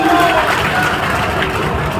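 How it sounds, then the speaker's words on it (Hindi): A rally crowd claps in a steady, dense wash of applause that stays loud and continuous throughout. "ताली तो बजाओ"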